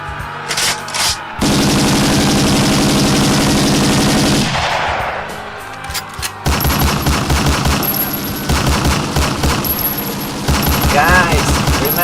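Loud automatic gunfire erupts after an order to open fire, with long sustained bursts that pause briefly and then resume with rapid rattling shots.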